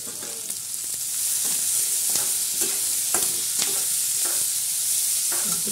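Onion and fenugreek being stirred in a frying pan, with a steady, close sizzle and repeated scraping clicks of the spoon against the pan, and no talk.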